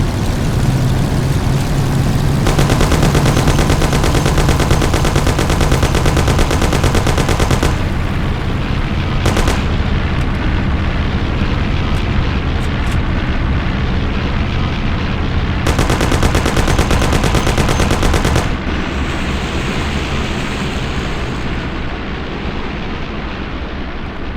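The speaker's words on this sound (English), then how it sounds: "Kill him, Sam" Sustained bursts of automatic gunfire ring out during a car shootout in the 1930s-era gangster video game Mafia: The City of Lost Heaven, loud and continuous with brief lulls, over a steady engine rumble.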